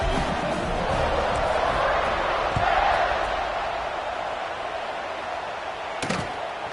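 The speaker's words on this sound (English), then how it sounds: "this crowd is buzzing after that last score" A large crowd at a college football game in a stadium buzzes after a score, a broad continuous roar of many voices with a faint announcer's voice beneath it.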